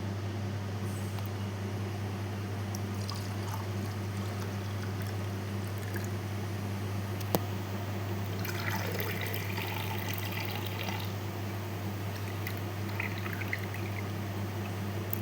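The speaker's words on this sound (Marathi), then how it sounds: "आता आपण ग्लासमध्ये काढून घेऊया" Homemade kokum sharbat poured into a glass, a soft steady liquid trickle running quietly over a low constant hum, with faint clinks of glassware partway through.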